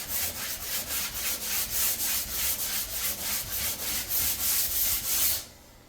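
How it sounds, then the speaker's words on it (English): Sandpaper scrubs over a drywall patch in quick, even back-and-forth strokes, about a dozen rhythmic rasps, close and alone, stopping abruptly at the end. "Normally you don't want to sand to the point of seeing the drywall patch underneath"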